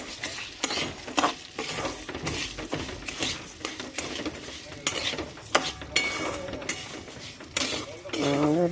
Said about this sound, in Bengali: একটু নেড়ে চেড়ে নিলাম ঘি দিয়ে